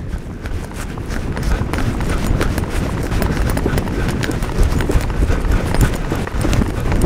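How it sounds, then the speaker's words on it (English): Hooves of a Western horse clip-clop steadily through a long, loose extended trot on soft ground, a fast, even rhythm of close, loud footfalls that carries on throughout, with no talk. "you're going to be able to build that longer, looser trot that you do with your Western horse"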